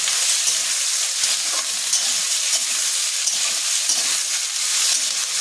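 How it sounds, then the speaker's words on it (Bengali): Four large sliced onions frying on high flame in a pan for chilli paneer, a loud, steady, close sizzle with soft stirring scrapes and no voices. "পেঁয়াজটা একটু ভালো করে আমরা নাড়াচাড়া করে নেব।"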